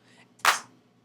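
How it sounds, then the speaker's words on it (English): A single dry clap sample with no reverb, one sharp close snap that cuts off quickly over a faint low hum. "completely dry of just the clap"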